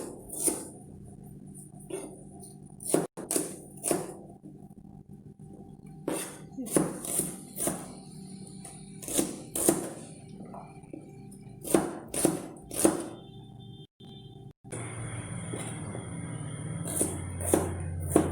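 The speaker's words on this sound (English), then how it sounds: "Now slice the shallots." Repeated sharp knife strokes slicing shallots on a board in uneven bursts, with clinks of kitchenware and a low background hum.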